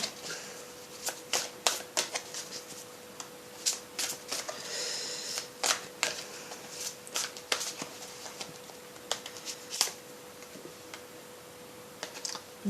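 Tarot cards shuffled in a quiet room, a steady run of crisp flicking snaps and short riffles, close and moderately loud, with no voices.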